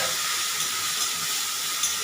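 Egg curry with tomato sauce and a splash of water in a pan gives off a constant, close steamy hiss and sizzle, with no voices.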